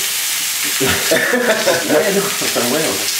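Courgettes fry in plenty of olive oil in a pan, hissing and sizzling steadily close up, with stirring noises and a faint voice underneath.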